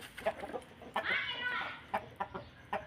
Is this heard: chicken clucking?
yes